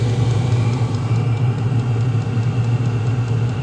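A low, steady mechanical rumble drones on without pause, loud and close, from a small Vevor diesel heater running with a poorly sealed exhaust.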